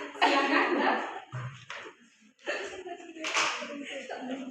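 Classroom applause for a student group: a short burst of clapping from several people, a pause, then more scattered clapping with a bit of laughter and talk mixed in.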